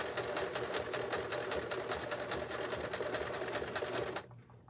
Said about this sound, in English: This is an old sewing machine.